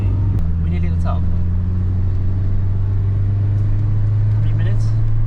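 A car's engine drones and strains steadily while climbing a steep Scottish road, a loud continuous low rumble with the hum of the cabin around it, and faint voices come through briefly in the background.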